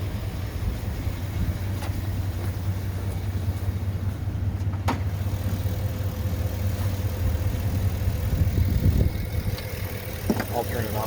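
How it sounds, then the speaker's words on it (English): Chevy Suburban work truck idling during an engine flush, a steady low engine hum running close throughout with faint clicks and shop sounds, no talking. "you idle the vehicle for just 15 minutes"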